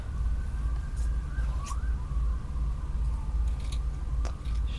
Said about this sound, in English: I just heard sirens go down the road